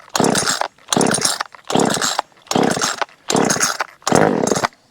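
A small two-stroke Vevor top-handle chainsaw sputters briefly six times on pull-starts in a steady rhythm, each pull catching for about half a second before dying, close and loud.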